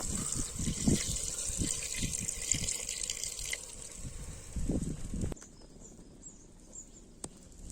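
Water is poured into a crab curry during cooking, giving a run of splashing trickles and drips that stops abruptly, followed by quieter clinks and faint sizzle.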